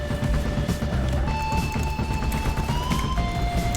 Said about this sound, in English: And then this guy I can use the Logan's gun.